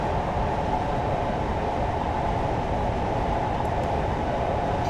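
Class 52 diesel train braking in a railway simulator game, a steady, even rumble and rail drone with no distinct squeal, constant and moderately loud.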